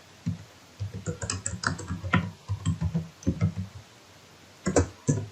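Python code being typed on a computer keyboard, quick bursts of close, crisp key clicks with short pauses between runs of keystrokes, no voice.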